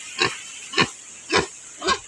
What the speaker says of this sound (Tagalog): Dako ng baboy ni Janice